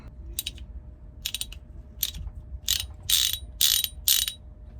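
A sailboat winch on a CT41 ketch, freshly reassembled, gives crisp ratchet-pawl clicks in seven short bursts that grow longer and louder toward the end, close by over a quiet background.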